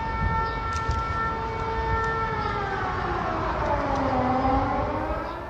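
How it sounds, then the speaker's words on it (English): A civil defence warning siren test in Bahrain wails steadily, its pitch slowly falling and rising, loud and sustained, with faint background noise. "the test activation of warning sirens carried out by the General Directorate of Civil Defence"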